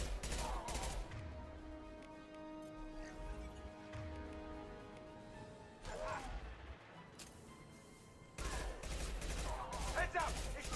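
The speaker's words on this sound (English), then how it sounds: "Firing an impact shot!" Impact shot gunfire in the video game Mass Effect 2, a dense burst of loud shots and crashes near the start and again toward the end, with a sustained tonal hum between the blasts.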